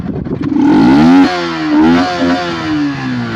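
A motorcycle fitted with a performance air filter and no filter cover revs hard close by: a quick throttle blip, then a rising roar that falls back and swells again in a few short surges.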